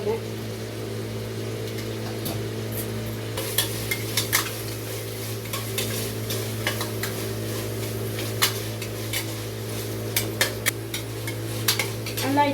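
Curry leaves and coriander are sautéed in a pan for potato rice. A soft sizzle runs under a steady hum, with scattered clicks and scrapes of stirring while a voice talks over it.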